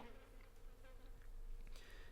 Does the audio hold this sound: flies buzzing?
yes